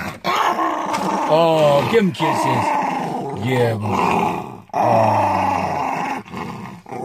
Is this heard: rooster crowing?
no